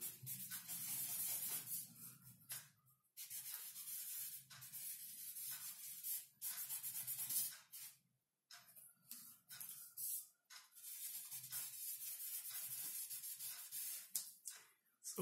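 Cotton rubbed over pencil graphite dust on paper for stencil shading makes soft, faint, hissy scrubbing strokes in uneven bursts, with short pauses between them.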